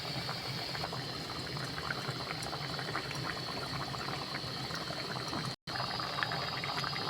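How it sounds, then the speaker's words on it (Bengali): Dhoka lentil-cake pieces simmering in a boiling gravy for dhokar dalna, a steady close bubbling and seething that runs without pause for several seconds, cut by one brief dropout, with no talk. "ঝোলটা ফুটে গেছে, ওর মধ্যে আমি ধোকাগুলো একটা দিয়ে দিলাম।"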